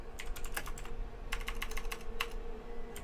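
Close, clattering keystrokes on a computer keyboard in irregular bursts over a steady background hum, typed during a ReGen Invitational livestream broadcast, with no voices.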